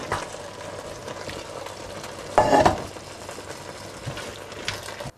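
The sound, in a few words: pasta mixture being stirred in a saucepan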